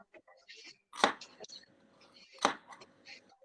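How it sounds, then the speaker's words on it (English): Carrots being chopped with a knife on a board during a home cooking session: a few sharp, close knife strikes with lighter taps between, amid quiet kitchen sounds. "And we're just chopping the carrots now."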